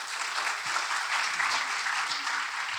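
Audience at an ATKV cultural gathering applauding, a steady wash of many hands clapping at moderate volume throughout, without a break and with no clear talk above it.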